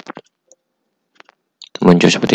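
A few sharp clicks from a computer keyboard as the Tab or Enter key is pressed in Microsoft Excel, spaced out over near silence, followed by someone talking.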